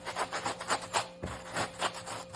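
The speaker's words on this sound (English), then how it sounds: "You apply it with the soft side. This is the product that's good on fabrics. Give it a scrub." A Scrub Daddy sponge scrubs fabric with Power Erase cleaning paste, making a close, rhythmic rubbing of quick back-and-forth strokes at a steady pace.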